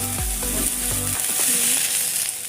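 Potatoes and onions frying in a pan, a steady sizzle with a continuous bright hiss under faint tonal background sounds.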